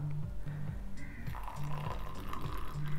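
Boiling water is poured into a glass over sugar for Egyptian tea, giving a steady liquid pour over a low, repeating hum.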